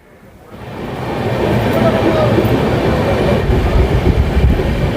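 Black Diamond Express passenger train running on the line from Sheoraphuli Junction toward Bandel Junction; a loud, steady rumble with wheel clatter builds over the first second and carries on close and continuous.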